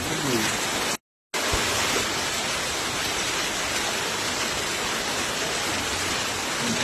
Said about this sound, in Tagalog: Ulan.